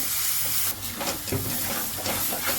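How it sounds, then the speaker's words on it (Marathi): Onion and coconut paste for Maharashtrian maswadi sizzles and hisses steadily in a hot pan as it is sautéed with garlic, coriander powder and homemade masala, a continuous close frying sound with faint stirring and no talk. "त्यामध्ये आपण कांदा खोबऱ्याचं वाटण टाकून घेऊ"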